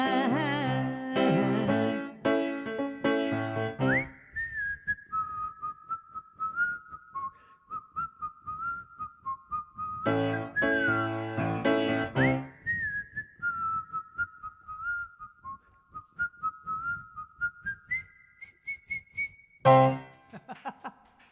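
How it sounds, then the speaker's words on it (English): A person whistles a song melody in clear, sustained tones, with sung-style phrases between stretches of whistled notes and short pauses, close and fairly quiet. "I can't always whistle in the same key I can sing in."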